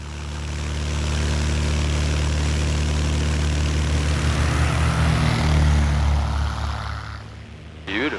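A small propeller airplane carrying two people roars steadily with a loud engine drone through its takeoff and climb, the engine note holding strong before easing slightly near the end.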